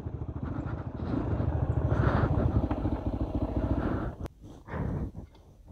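A dirt bike motorcycle engine running under load on a rough ride, a loud close rumbling drone with pulsing throttle changes, then a sudden drop and short revs near the end.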